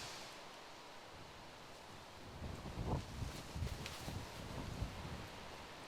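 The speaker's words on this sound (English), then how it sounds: "There's that wind." Gusts of wind sweep across an open disc golf course in Australia, a soft broadband rush that swells midway and keeps blowing steadily to the end.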